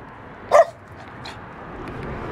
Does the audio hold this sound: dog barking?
yes